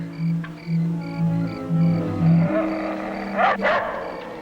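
A dog barks repeatedly and yips into the night at something unseen, with loud, fairly close bursts in an uneven rhythm that grow rougher and more agitated toward the end.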